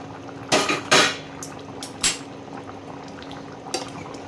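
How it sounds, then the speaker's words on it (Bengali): A cooking pot lid is lifted off a pot of half-boiled country chicken and potatoes, giving two close metallic clanks in quick succession, then a lighter clink, over a faint simmering background. "এবারে আমি ঢাকাটা খুলি"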